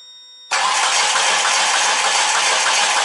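A Mitsubishi Colt car engine cranking and catching at once, then settling into a loud, steady idle close by, with no talk.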